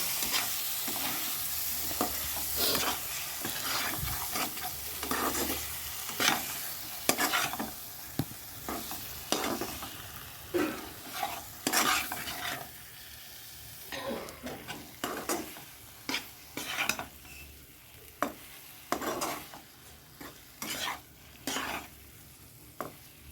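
Egg stir-fried in a pan, with repeated scraping and stirring strokes over a steady close sizzle of frying, the utensil clacking against the pan at an irregular rhythm throughout.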